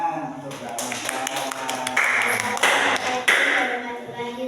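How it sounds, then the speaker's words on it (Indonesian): Classroom applause for a student after a group presentation: a short burst of clapping from a small group, with speech mixed in underneath. "tepuk tangan untuk Mbak Masya"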